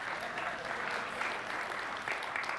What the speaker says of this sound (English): I think that was the Mesospheres guys clapping.